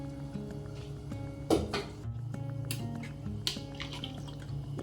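Measured water poured into a pot of Chettinadu chicken biryani, heard as a couple of brief splashing bursts over a steady humming kitchen cooker fan.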